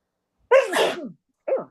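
A loud, close sneeze with a sharp burst and trailing voice, followed a moment later by a shorter, softer second sneeze.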